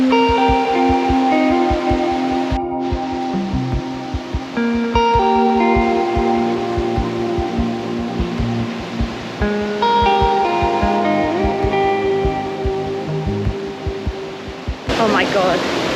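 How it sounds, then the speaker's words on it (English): Steady broadband rush of waterfalls on a walk in Snowdonia, a constant full roar running throughout, with a tonal musical layer sitting over the water noise. "these waterfalls are epic."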